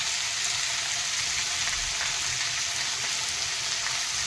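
Vegetables frying in a pan for a Bengali shingi fish curry with cauliflower, a steady, even sizzle that carries on unbroken throughout with no talking.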